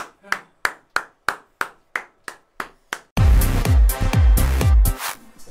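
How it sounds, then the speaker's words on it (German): Evenly spaced single claps ring out about ten times, then a burst of louder, fuller applause from several hands follows and fades. "Applaus für Andi"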